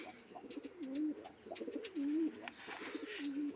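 Domestic pigeons coo softly up close in a run of low, rolling, repeated coos, with a few faint chirps in the background.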